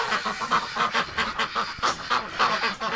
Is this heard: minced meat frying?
no